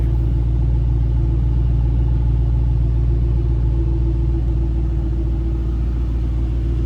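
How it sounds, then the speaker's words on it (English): A supercharged 2007 Ford Mustang Roush 427R idles with a steady, deep, throaty exhaust rumble, close and continuous with no revving, alone and free of talk. "At idle, just a nice throaty exhaust note."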